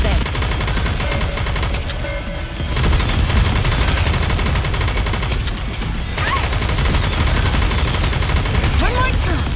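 Dense, continuous gunfire from the mobile shooter game Goddess of Victory NIKKE, with rapid bursts and heavy volleys blending into a loud, sustained barrage, while game voices call out occasionally over the shooting.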